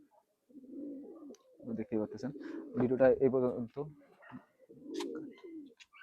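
Pigeons of an old nose-pulling breed in a Khulna loft give soft, low cooing in short bursts, partly under someone speaking nearby.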